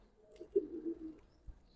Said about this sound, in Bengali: দেখেন কবুতর দেখেন আলহামদুলিল্লাহ অনেক সুন্দর কবুতর